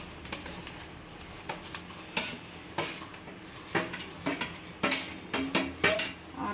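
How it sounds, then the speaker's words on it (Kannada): Ginger, coriander and mint frying in oil for chicken pickle, with a low sizzle under repeated sharp clanks and scrapes of a metal spoon against the pan, close and alone. "ಅರ್ಧ ಕಟ್ಟೆ ಏನು ಅದನ್ನು ಪೂರ್ತಿ ಹಾಕ್ಕೊಂಡು ಈ ಥರ ಫ್ರೈ ಮಾಡ್ಕೊಳ್ಳೋಣ ಆಯಿಲಲ್ಲಿ"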